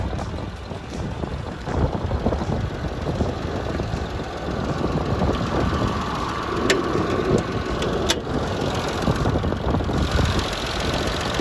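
A 1995 Isuzu Rodeo's 3.2-liter 24-valve single overhead cam V6 idles steadily, a close, constant low rumble with some wind buffeting the microphone and no talking.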